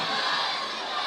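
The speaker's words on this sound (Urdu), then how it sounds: "مل کے ذرا نبوت ختم نبوت دا نعرہ لاؤ" Large crowd at an outdoor religious gathering in Nankana shouting together in a sustained, dense roar of many voices, with no pauses or single speaker standing out.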